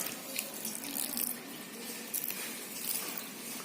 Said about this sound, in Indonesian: Kita buang airnya ya.